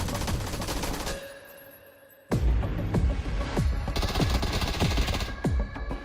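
Rapid bursts of automatic gunfire in the battle-royale game PUBG, sharp repeated shots over a steady background of game ambience, quieter at first and then loud and continuous.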